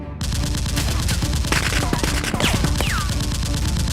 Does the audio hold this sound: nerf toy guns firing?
yes